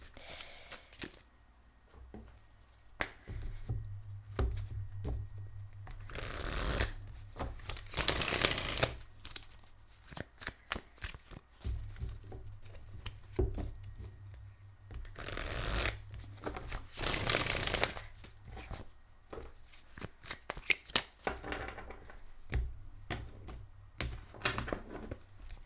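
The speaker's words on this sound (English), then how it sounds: "apparently it needed shuffling here" Tarot cards are shuffled in repeated riffling bursts, close and crisp, with quiet pauses and soft handling sounds between the shuffles.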